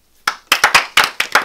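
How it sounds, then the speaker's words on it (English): A few sharp hand claps ring out close and loud after a brief silence, falling in an uneven rhythm of roughly seven distinct smacks with no voices over them. "Clap."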